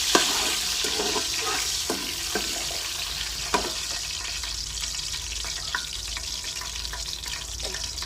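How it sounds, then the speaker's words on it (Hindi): Cumin seeds roasting in a pan for a village-style dal, giving a steady low sizzle and crackle with occasional sharp pops and utensil clicks, fairly close, with no talk. "जीरा थोड़ा सा भून लेते हैं।"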